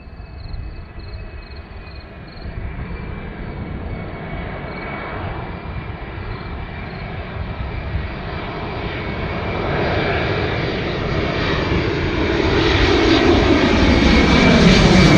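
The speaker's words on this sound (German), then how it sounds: "genau da kommt ein Flugzeug" An airplane passes at Cologne Bonn Airport, its engine roar rising steadily from a moderate distance to loud and near over about fifteen seconds, heard alone.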